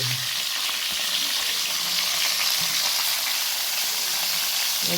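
Steady, dense sizzling of green chillies and onion sautéing in hot oil in a pan, with occasional soft stirring knocks underneath, close and continuous throughout.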